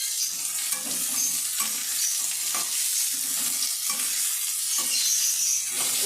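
Fried vegetables with boiled peanuts and peas being stirred in a hot pan, giving a steady close sizzle broken by repeated scraping strokes of the spoon, with no talking.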